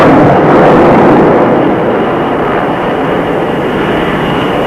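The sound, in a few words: aircraft flying near an aircraft carrier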